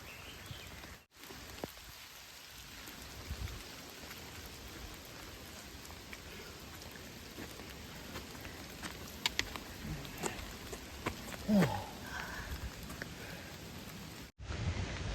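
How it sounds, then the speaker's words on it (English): Steady rain falling along the Appalachian Trail in Georgia, a soft continuous patter on the woods with a few louder drops landing close by. Faint and even throughout, with no voices. "it's been raining most of the day"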